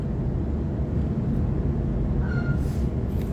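A Sydney Trains T8 B-Train rolls very slowly into the Macarthur terminus, a steady low rumble of wheels and motors, close and continuous, with a brief faint squeal partway through.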